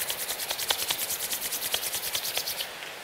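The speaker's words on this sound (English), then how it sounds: "And again, rub, rub, rub." Hands rubbed briskly together to warm them during a guided relaxation, a steady rapid train of soft dry swishing strokes, close and alone, easing slightly near the end.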